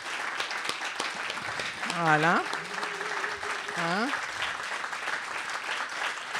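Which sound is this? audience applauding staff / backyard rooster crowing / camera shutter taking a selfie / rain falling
audience applauding staff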